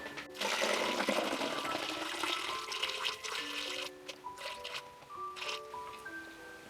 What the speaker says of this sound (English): I'm going to pour this water into this bottle